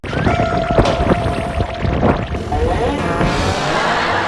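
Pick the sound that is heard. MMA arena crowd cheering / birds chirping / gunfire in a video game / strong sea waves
strong sea waves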